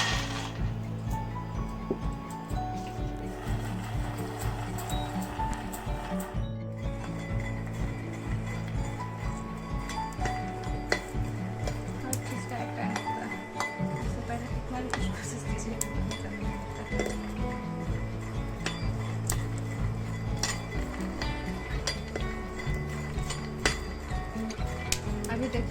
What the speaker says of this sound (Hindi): अब पैन गरम होने पे हम इसमें मूंगफली डाल के भूनेंगे।